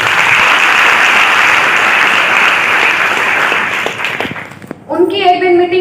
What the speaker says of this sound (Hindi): मैं एक बार तालियां चाहूंगी उनके लिए।